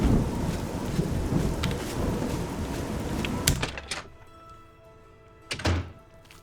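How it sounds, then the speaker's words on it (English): A thunderstorm with heavy rain in the video game Oblivion: a dense steady downpour hiss, a sharp thunder crack, then a quieter gap and another close rumbling thunderclap, with no talk. "crazy storm here."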